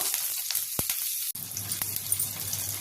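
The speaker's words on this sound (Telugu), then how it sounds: "నూనె వేడయ్యాక 1 మిరపకాయ వేసాను, అలాగే 1 స్పూను ఆవాల జీలకర్ర, 1 రెమ్మ కరివేపాకు" Chilli, mustard seeds, cumin and a sprig of curry leaves sizzle and spit in a spoonful of hot oil, a steady close frying hiss with a brief stir clatter midway.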